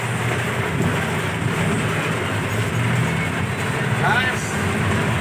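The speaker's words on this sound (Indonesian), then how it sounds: "Kondisi hujan ya." Steady rain hisses on a road near Cikembar during a downpour, a dense continuous wash of noise close to the microphone with low road rumble beneath, and a brief squeal near the end.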